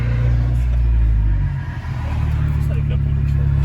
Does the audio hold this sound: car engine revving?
yes